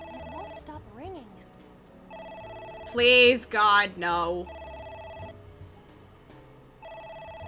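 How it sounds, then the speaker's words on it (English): A telephone rings in steady repeated bursts, with a loud, agitated voice crying out in the middle and short spoken lines before and after. "It won't stop ringing."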